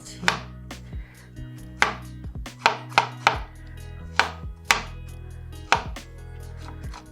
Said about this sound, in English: So when you make strawberry muffin, you cut the small piece strawberry.